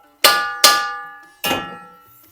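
Three ringing metallic clangs, two in quick succession then one more, like a lid set onto a pot of cabbage curry with chana dal, each fading out.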